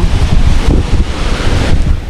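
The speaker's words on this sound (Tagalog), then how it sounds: "ayan lakas ng hangin" Strong typhoon wind roaring across a coastal area at low tide around landfall, a loud, continuous rumbling gust buffeting the microphone with no voices.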